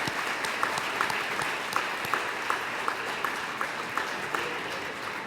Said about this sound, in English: let's give one big round of applause for all our honorees today